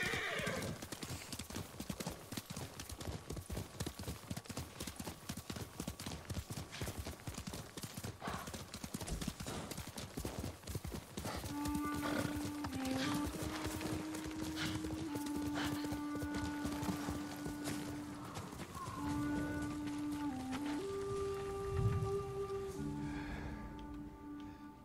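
Horse hooves clip-clop steadily in the Ghost of Tsushima video game, a continuous rhythmic trotting with a neigh, under a game music score with sustained tones joining partway through.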